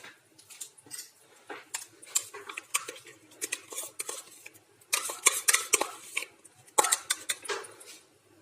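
A whisk scrapes and clinks in a bowl of oil, sugar, yeast, yogurt and warm water for dough, with irregular bursts of metallic stirring strokes and nobody speaking.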